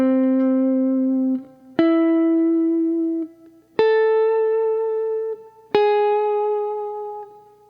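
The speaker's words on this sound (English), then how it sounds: "Let me play the thirds alone." An electric guitar plays four single sustained notes one after another, each ringing clearly and decaying before the next is picked.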